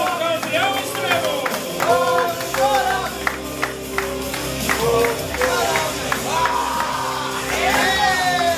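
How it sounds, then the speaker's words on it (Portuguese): A crowd at a CFW fight event cheers and claps for the extreme champion, a dense roar with scattered sharp claps and shouts, while an announcer's voice carries over the noise. "Uma salva de palmas para o nosso campeão extremo"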